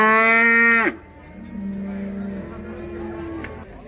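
A cow at the Karabulak livestock market gives one loud, drawn-out moo up front, followed by a lower, fainter second moo over steady market chatter and crowd noise.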